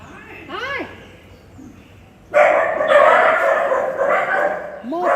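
Puppies let out a few high, rising yips and whimpers, sparse and fairly close, then a louder, busier stretch of mixed noise takes over before another short yelp at the end.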